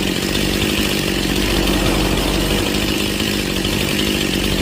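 Stihl chainsaw engine running steadily at a high idle during a carburetor tune-up, a loud, close, continuous two-stroke buzz with no pauses.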